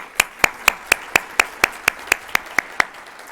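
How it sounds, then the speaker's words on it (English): Crisp, evenly spaced hand claps ring out about four times a second at a symposium, a steady rhythmic beat of clapping for a speaker with little else beneath it. "let's give Dr. Sly another round of applause"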